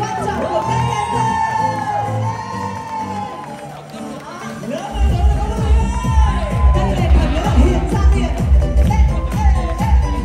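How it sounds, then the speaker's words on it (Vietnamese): A crowd at a stage gathering night and music video launch whoops, shouts and cheers loudly, swelling halfway through, with music and amplified voices mixed in. "Xin mọi người vỗ tay thật lớn cho những người vô cùng quan trọng của các em ơi."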